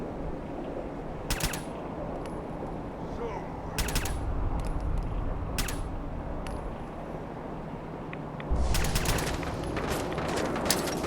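Gunfire in a wasteland shooter video game, with sharp shots and short bursts crackling at irregular intervals over a steady background hum, fairly close and loud.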